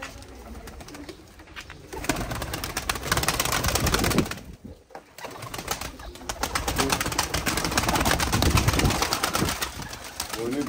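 Pigeons coo softly amid a busy mix of bird sounds and rustling, with some fluttering and background noise throughout.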